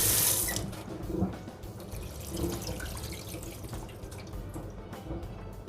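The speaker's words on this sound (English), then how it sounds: "And our mushrooms are all washed." Water runs from a kitchen tap into a sink while mushrooms are washed, a steady splashing stream with small drips and clinks, loudest at the start, then settling to a constant moderate rush.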